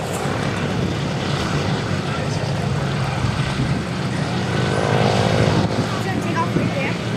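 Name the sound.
C-47 airplane engines rolling out at airshow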